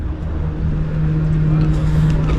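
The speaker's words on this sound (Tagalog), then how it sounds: "tambutso, tunog ng tambutso." A vintage car's exhaust gives a steady, loud low rumble with a constant droning hum, holding evenly throughout in an outdoor setting around Port Stephens, Nelson Bay, New South Wales.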